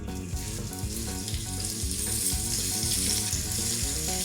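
Pork browns in an Instant Pot with a loud, constant sizzle that fills the whole stretch, close up and unbroken, with no talking.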